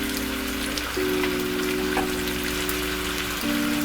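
Shrimp returned to a hot pan with half a cup of wine, sizzling steadily with a constant frying hiss, close and fairly quiet, with no voices.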